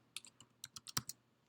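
Typing on a computer keyboard: a quick, irregular burst of about nine crisp key clicks, close but quiet, with no talking.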